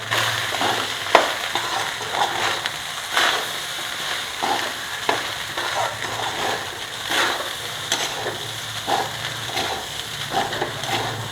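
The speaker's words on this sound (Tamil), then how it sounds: "நல்லா இப்படி கிளறி விட்டுருங்க." Amla rice being stirred in a frying pan, with repeated scraping strokes and clinks over a soft, steady sizzle, close up and continuous with no talking.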